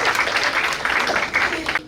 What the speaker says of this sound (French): On applaudit pour le Seigneur.